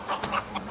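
Street birds give a few quick, faint clucks in a brief burst, like chickens close by.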